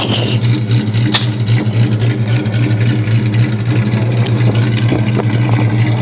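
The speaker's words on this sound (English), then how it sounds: "nice sound of that exhaust and those 270 cams" A custom 2000 Ford Mustang GT with 270 cams idles through its exhaust, a steady loud burbling rumble with a deep low throb, close by and continuous, with wind noise.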